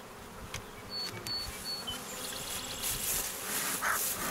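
Honeybees buzzing inside a hiving trap, a dense continuous drone of many insects close by with individual wing whines rising and passing over it, steady throughout with no voices.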